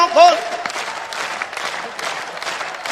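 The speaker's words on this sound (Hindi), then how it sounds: "इतनी अच्छी तो भारत की सेना परेड नहीं करती जितनी अच्छी आप ताली बजा रहे।" An audience at a Hindi poetry recital claps warmly, a dense steady round of applause with a voice speaking briefly at the start.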